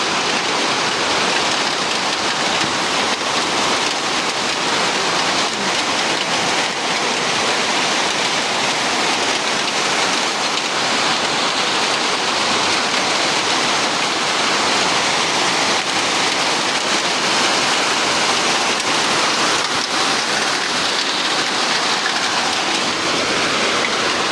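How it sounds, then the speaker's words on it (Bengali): Sudden heavy rain pours steadily in a dense, unbroken hiss on surfaces, constant and loud with no voices. "দেখেন হঠাৎ করে সেই জোরে বৃষ্টি নেমে গেছে"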